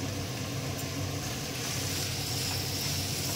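Salt, cumin powder, coriander powder and a little chili powder sizzle in a pan for a vegetable chop filling, a steady, close frying hiss with no pauses.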